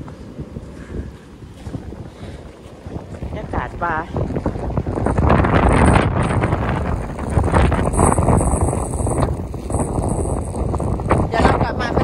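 Wind gusts buffet the microphone outdoors on a cold day, a rough steady rushing that swells and holds beneath people chatting nearby.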